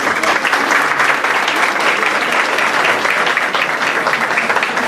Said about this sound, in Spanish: Damos un aplauso de bienvenida.